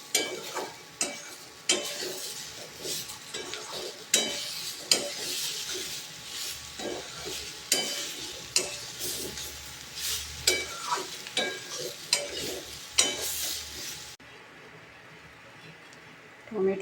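Spices, slit green chillies and ginger sizzle and fry in a pan while a spatula stirs and scrapes in repeated close strokes. The constant hiss of hot oil continues under the stirring until it stops abruptly near the end.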